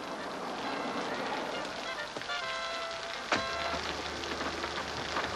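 Steady rain pattering on a hard surface, a constant dense hiss with a couple of sharper knocks partway through.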